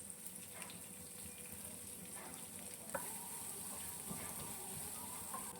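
Dried red chillies and curry leaves sauté in a pan with a soft, steady sizzle and occasional stirring scrapes, faint and without talk.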